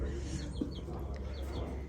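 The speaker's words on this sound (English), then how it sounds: "And here's the little chickies." Small backyard chicks and chickens chirp and cluck softly at close range in short, scattered calls over a steady low hum, with faint speech mixed in.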